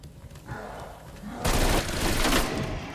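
Rapid gunfire in Call of Duty Cold War Zombies, a dense burst of automatic shots after a quieter stretch with fainter game noise, loud and close.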